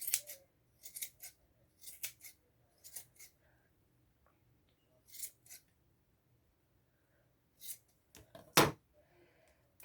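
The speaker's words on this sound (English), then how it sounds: "A little long on this side, so I'm going to trim it down, keep up a good shape." Scissors snip repeatedly at a yarn pom-pom, crisp close-up cuts in short irregular bursts with pauses between, ending with a louder sharp snip and quiet handling.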